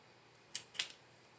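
Scissors snipping a Philodendron micans stem near a node, two quick close crisp cuts about a quarter second apart in an otherwise quiet setting.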